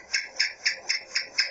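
A house gecko (cicak) on a wall chirps six times in a quick, evenly spaced series of sharp, clicky calls, close and fairly quiet with nothing else around.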